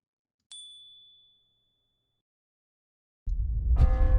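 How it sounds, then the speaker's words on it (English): A single bright bell ding rings out clearly against silence and fades over about a second, followed after a pause by a louder swell of rumbling sound. "The sound of a bell brought their gaze to the rooftops of a village below."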